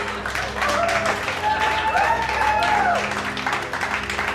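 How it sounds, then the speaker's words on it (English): A burst of applause, dense clapping from many hands that sustains throughout with a voice-like tonal sound mixed in partway. "I'd like 1 round of applause for that fight scene"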